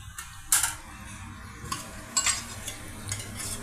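Cloves and a piece of cinnamon frying in a teaspoon of ghee for vegetable biryani, giving a soft steady sizzle with a few sharp clinks and stirring scrapes, close and quiet, no talking.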